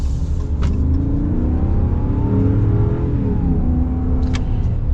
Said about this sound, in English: we will be getting our acceleration here in just a second with this Power Wagon and see how she